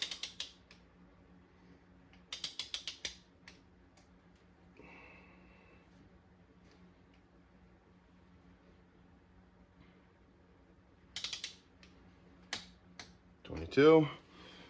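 Ratchet clicks in short rapid bursts as cylinder head bolts are torqued on a Jeep XJ, separated by quiet gaps over a steady low hum, with a brief voice near the end.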